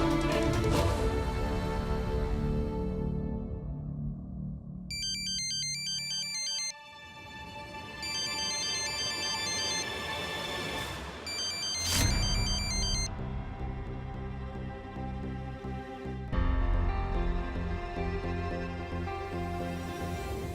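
Electronic phone ringtone plays in repeated melodic bursts while a call is placed, with a steady underlying tone and no voices, fairly close and clear.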